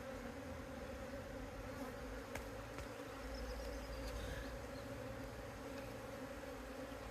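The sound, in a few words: honeybees buzzing in a poly beehive during inspection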